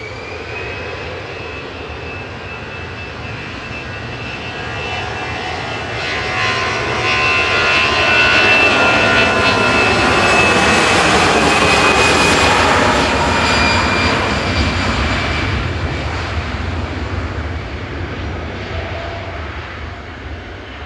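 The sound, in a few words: Aer Lingus Airbus A320 jet airliner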